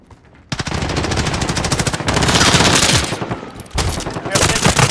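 Gunfire in Call of Duty Modern Warfare 2019: loud, sustained rapid machine-gun bursts nearly continuous after a short quiet start, with brief breaks, up close, and faint game voices beneath.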